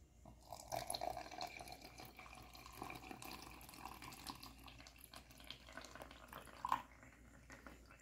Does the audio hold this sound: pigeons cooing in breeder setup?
no